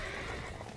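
A horse in the action game Samurai Warriors 5 lets out a loud, close, sustained whinny, heard alone in a single short burst.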